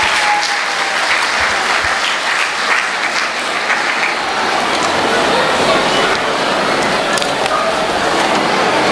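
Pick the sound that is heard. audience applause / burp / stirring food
audience applause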